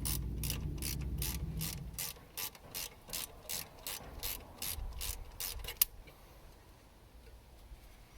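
A hand ratchet loosens 10 mm bolts holding a bracket on a car, giving close, rapid, evenly spaced clicking bursts for about six seconds before falling quiet.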